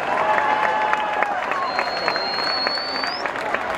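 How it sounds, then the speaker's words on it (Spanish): A crowd at a Christmas lighting event in Mayagüez applauds steadily for a youth band, with dense overlapping claps, crowd noise and thin whistle-like tones rising above the clapping throughout. "un fuerte aplauso a todos esos jóvenes que han sido parte de esta banda"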